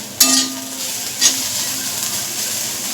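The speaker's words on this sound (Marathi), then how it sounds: "कांदा भाजून घेऊया कोरडा भाजून घेऊया" Onion dry-roasting in a pan with no oil gives a soft, steady sizzle with a few brief scraping stirs near the start, close and moderate in level.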